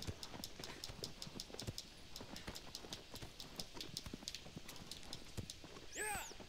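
In Shadow of the Colossus the horse Agro gallops, a fast steady rhythm of hoofbeats running throughout, quiet and close, with a brief swooping chime near the end.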